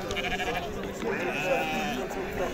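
Sheep bleating at a crowded weekly livestock market in Morocco, a few drawn-out wavering bleats close by over constant background chatter and crowd noise, with people talking nearby.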